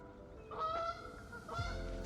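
Geese honking outdoors, two distinct nasal honks a second apart, fairly close and moderately loud over a quiet background.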